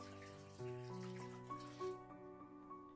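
Water pours into a soup pot that already holds vegetable beef broth for an Italian meatball soup, making a faint, steady splashing stream with small rises and ripples over about three seconds.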